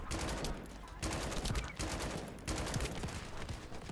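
Gunfire from a ship in the shooter game The First Descendant comes in rapid, sustained automatic bursts with short breaks between volleys, moderately loud and dense throughout.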